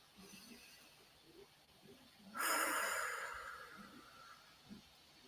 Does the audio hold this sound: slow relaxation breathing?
yes